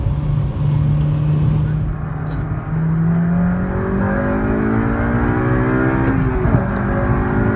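A four-cylinder Honda engine with an axle-back exhaust revs and accelerates up through the gears, rising harmonic tones sweeping upward, loud and close with steady road rumble underneath.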